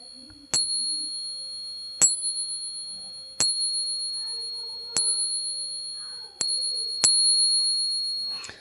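A Morgan silver dollar tapped lightly six times, each tap giving a bright, high ringing tone that slowly fades. The taps are spaced a second or more apart, close and alone.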